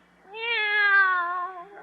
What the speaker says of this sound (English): Take our cat Minerva.